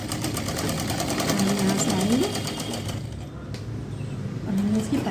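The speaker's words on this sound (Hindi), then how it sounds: "अब हमने यहाँ से आधे इंच की सिलाई कर दी।" Sewing machine stitches fabric for a baby suit with a continuous close mechanical whir that eases off partway through, while a person speaks over it.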